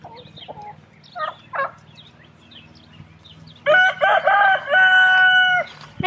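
Turkey gobbling among a backyard flock of pet birds, a few short calls early on followed by a loud, close, warbling gobble run near the end, no speech.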